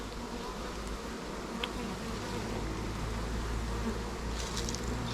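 Bees buzz steadily and densely around a hive, making a continuous close hum without any break.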